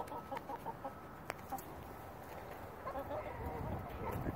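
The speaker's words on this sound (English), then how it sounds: "That's our chickens. Well, at least while they're in the coop." Chickens cluck quietly inside a coop, scattered low clucks and a few sharp taps over a soft, steady background.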